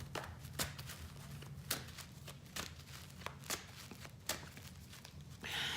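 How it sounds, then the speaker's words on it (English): Cards are shuffled by hand in a steady series of crisp riffling snaps, close and fairly quiet, with no one speaking. "I'm going to shuffle the cards."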